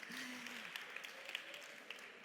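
An audience at a literacy congress claps hands, a faint, scattered patter of applause with sharper individual claps poking through a low steady wash.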